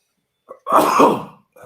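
A single short, explosive burst from a person, like a sneeze or harsh cough, with a faint breathy sound before it.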